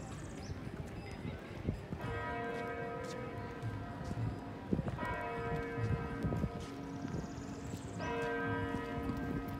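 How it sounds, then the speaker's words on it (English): University clock tower bells chime on a campus, three long resonant strikes spaced about three seconds apart, ringing out over steady outdoor ambience with faint hoof-like clops. "That's the tower chiming."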